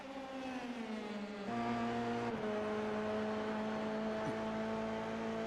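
Race cars circling the track at Mosport, engines whining in sustained tones that jump in pitch at gear changes as a pack passes, loud and continuous without speech.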